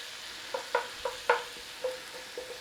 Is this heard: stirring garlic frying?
yes